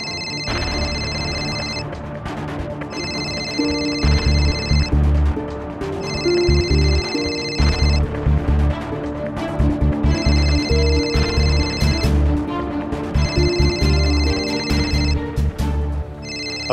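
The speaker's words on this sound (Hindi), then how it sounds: "सर आपके वाइफ का फोन आ रहा है।" A telephone rings with an incoming call, giving repeated bursts of a high electronic ringtone in a steady rhythm over a continuous musical background, loud and close, with no talking.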